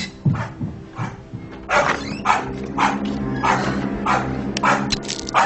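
A dog barks repeatedly indoors, sharp close barks in an uneven run mixed with a few yips and whines, over a low steady background hum.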